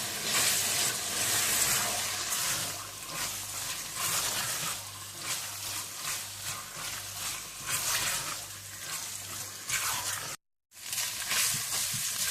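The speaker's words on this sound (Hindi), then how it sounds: "चिकन को भी आप अच्छी तरह से भून लें" Chicken frying in a pan with onions and spices, a steady loud close sizzle with stirring crackle throughout and a brief dropout near the end.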